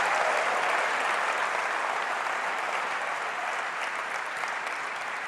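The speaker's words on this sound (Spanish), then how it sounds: "Y la gente aplaude, no sabemos qué, pero la gente aplaude." Steady, dense applause from a large crowd at a product launch keynote, holding at an even level for several seconds with no voices on top.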